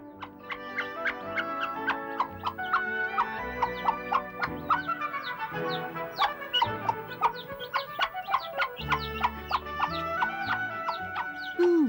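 Hen clucking with her chicks at a farm, steady soft clucks and high peeping calls running throughout over a busy background of farmyard sounds, with no talk.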